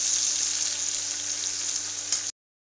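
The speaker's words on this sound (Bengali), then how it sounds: "পেঁয়াজটা একটু লাল লাল করে ভাজে নেব।" Chopped onions sizzle steadily in hot oil in a pan for mutton curry, a loud continuous frying hiss that runs without a break and then stops abruptly.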